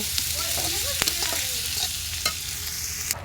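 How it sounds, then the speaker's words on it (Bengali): Onions fry in a hot pan for a mashed bharta dish, giving a continuous close sizzle with stirring scrapes and an occasional clink of the spatula. "এই যে পেঁয়াজ ভাজি করতেছি"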